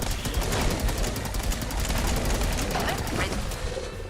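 Sustained rapid gunfire from a firefight in Fallout 4, dense bursts of shots rolling continuously at close range with a faint voice beneath.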